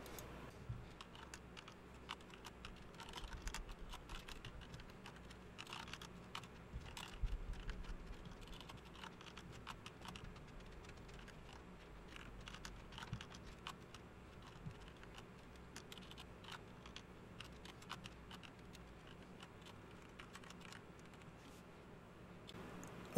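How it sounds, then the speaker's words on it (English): Quiet, continuous clatter of typing on a computer keyboard, irregular bursts of keystrokes going on steadily with no talking. "We've finished typing in our code."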